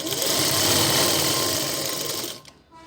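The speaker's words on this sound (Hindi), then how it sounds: "इसके ऊपर हमने दबाव वाली सिलाई लगाकर आपको दिखा देते हैं।" A sewing machine runs close up and steady, stitching a pressed seam on a salwar with a fast, continuous whirring rattle, then slows and stops near the end.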